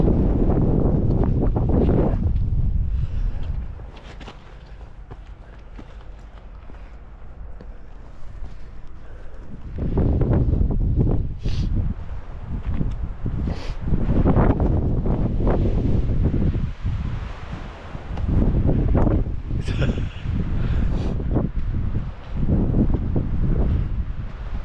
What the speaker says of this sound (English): I think the wind's really picked up.